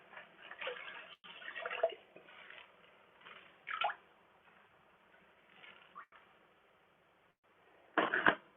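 Water sloshes and squishes as paydirt is swirled in a big gold pan, with soft wet churning and a few louder splashy bursts near the start, middle and end, close by.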